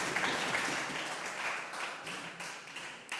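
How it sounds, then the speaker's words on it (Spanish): A church congregation claps in a fairly soft, moderately dense burst that gradually thins out toward the end, with a few more distinct claps standing out near the close. "un aplauso al Señor por sus vidas."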